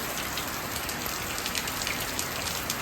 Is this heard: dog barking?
no